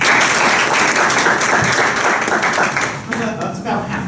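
A comedy magic show audience breaks into loud, full applause that holds steady for several seconds, then thins and fades as a voice begins to speak.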